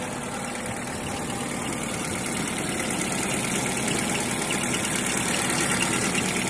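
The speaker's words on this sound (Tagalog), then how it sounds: "Ang sama ng andar na makina na ito." A Honda L13 engine idling roughly with a misfire and a worn belt, a steady close mechanical drone with uneven knocking pulses running throughout, no voices.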